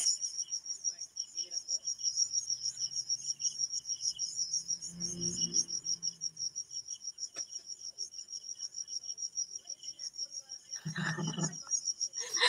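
Crickets chirp in a steady, high, continuous trill throughout, with a faint low rumble around the middle and a brief louder burst near the end.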